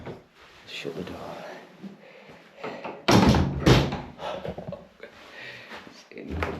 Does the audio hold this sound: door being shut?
yes